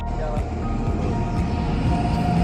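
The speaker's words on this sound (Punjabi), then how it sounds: "ਪਹੁੰਚ ਗਈ ਹੈ ਜੀ ਟ੍ਰੇਨ ਆਪਣੀ" A heavy rumbling train arrives at night on a Kotkapura to Mathura run, a low continuous roar with metallic rattling and a faint whine above it.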